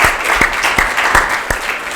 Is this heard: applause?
yes